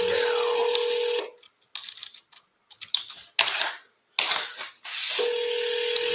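A phone call to a seller is dialed: steady tones at the start and end frame a cluster of short, close beeps and taps, with quiet gaps between the bursts.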